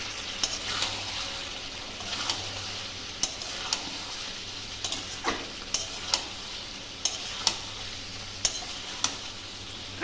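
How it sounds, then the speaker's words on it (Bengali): Jackfruit curry with coriander powder and spices sautéing in a pan, a steady close sizzle broken by about a dozen sharp scraping stirs that come at uneven intervals, with no voice. "এবার আবার কষিয়ে নেব।"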